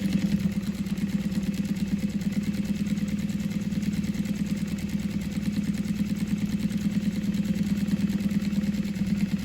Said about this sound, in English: Now I'm going to top stitch it just over 1/8 of an inch.